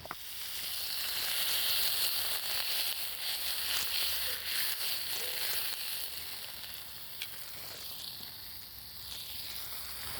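About twelve ounces of thick bacon sizzling on a griddle, a steady close hiss and crackle that holds throughout with no talk.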